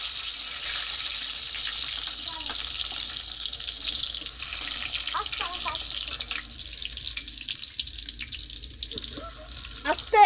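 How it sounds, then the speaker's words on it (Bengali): Eggplant pieces coated in salt and turmeric fry in a wok: a moderate, watery sizzle with bursts of spitting crackle and a few clinks, growing livelier toward the end. "বেগুনগুলো দিয়ে দিচ্ছি কড়াতে।"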